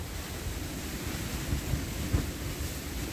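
Strong wind roars steadily against the microphone outdoors during smelt ice fishing in a blizzard, a dense low rumble with a few heavier gusts and no talking.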